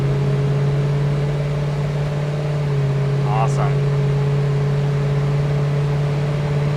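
A 1970 Dodge Charger with a 440 engine cruises at speed, its loud, steady low-pitched drone heard from inside the car as a voice speaks briefly over it.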